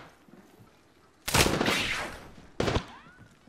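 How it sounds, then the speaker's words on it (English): Gunfire in a video game, two loud, close bursts of shots, the first longer and trailing off, the second short and sharp, over a quiet background. "Getting shot at."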